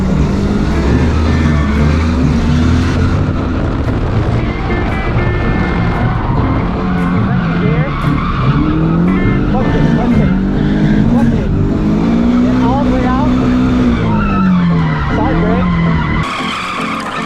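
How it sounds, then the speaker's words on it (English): A Toyota drift car with a 5.29 final drive howls at Apple Valley Speedway, its loud engine revving up through the gears under continuous tire squeal and skidding. Someone talks over the engine from inside the car. "first gear, second gear, third gear"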